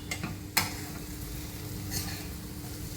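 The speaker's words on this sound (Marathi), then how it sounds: "आता हे जरा तेलात परतवून घेते आहे" A potato and eggplant mixture sautéing in oil in a pan gives a steady, close sizzle, with a couple of sharp utensil scrapes near the start and a brief swell of frying noise later.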